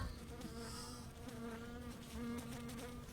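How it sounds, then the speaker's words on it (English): Continuous insect-like whine of a mosquito in the video game My Summer Car, steady and droning throughout with a sustained tone over background game ambience, no talking. "I am so sick of that mosquito sound."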